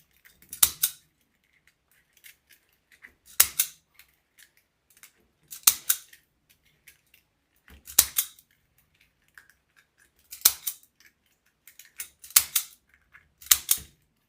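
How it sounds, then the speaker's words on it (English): A zip tie gun tightens and snips zip tie tails in six sharp, isolated clicks spaced a couple of seconds apart, close and clear with quiet gaps between. "It tightens and cuts your zip tie tails at the same time."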